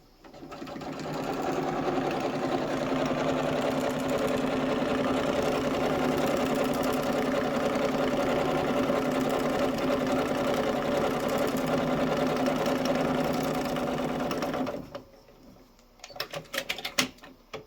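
A sewing machine stitches a quick test pattern on a quilt, a steady close whirring run of about fourteen seconds that stops abruptly, followed by a few faint clicks and handling noises.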